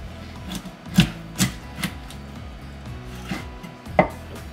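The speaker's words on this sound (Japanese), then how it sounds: "頭落としていきます。" A knife chops down through the head of a Japanese sea bass on a cutting board, giving several sharp, close thuds spaced about half a second apart, with quieter scraping between them.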